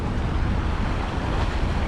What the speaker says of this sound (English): the ocean has calmed down, the waves have calmed down